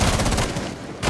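Rapid gunfire from a match of the video game Rainbow Six Siege, a dense continuous burst that fills the clip and drops briefly before resuming.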